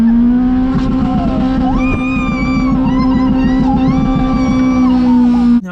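Car doing burnouts with a sustained high tire squeal over a loud, steady engine roar and a rapid pulsing rumble, close and continuous until it cuts off abruptly at the end.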